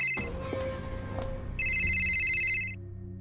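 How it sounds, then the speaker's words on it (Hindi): A mobile phone ringtone sounds for an incoming call in a quiet scene, a bright repeating electronic tone that starts partway through, rings for about a second, then stops. "तभी आर्यन के फोन पर एक कॉल आई।"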